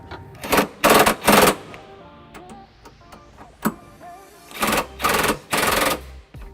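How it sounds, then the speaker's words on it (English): A ratchet with an extension and 3/4 socket snugs trailer hitch bolts on a 2001 Pontiac Aztek, giving several bursts of rapid clicking in two groups, close and loud, separated by quieter clinks. "extension and a 3/4 socket to snug up the remaining bolts"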